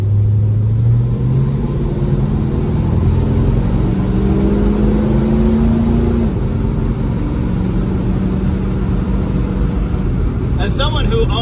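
A 1969 Dodge Charger Daytona with a factory-spec 440 V8 rumbles loudly up close, its pitch sliding upward as it accelerates and then holding a steady droning run, with a brief clatter near the end.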